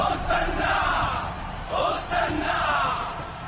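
Palm Sunday crowd shouting hosanna, a dense roaring mass of voices that swells in two loud waves with scattered cries on top.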